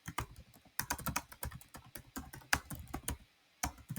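Text is typed on a computer keyboard in quick bursts of close, crisp key clicks, with short pauses between runs and no voices.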